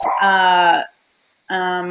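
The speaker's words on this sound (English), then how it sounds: "my dogs are excited" Excited dogs give harmonic, whining barks or yips, one long sustained cry followed by a pause and then another, loud and close.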